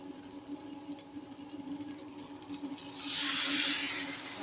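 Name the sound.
water poured into crab curry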